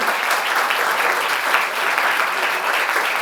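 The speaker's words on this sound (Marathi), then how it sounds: "जोरदार टाळ्या वाजवा." An audience applauds steadily at a road safety awareness event held at a college, a dense, loud and continuous wash of clapping with no break.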